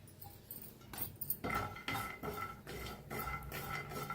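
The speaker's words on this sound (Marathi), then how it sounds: "हलकसं शेंगदाणा भाजलेला आहे त्याच्यातच आपण खोबरं बी भाजून घेऊया" Peanuts and coconut dry roasting in a pan on a gas stove, with close scraping and stirring strokes, light rattling of the pieces against the metal, and clinks of the spoon repeating every second or so.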